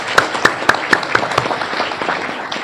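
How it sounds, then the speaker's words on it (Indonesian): Students give close, loud applause at a university public lecture as the guest speaker is introduced. Crisp individual claps stand out early, then blend into a denser round that carries to the end. "Tepuk tangan ya."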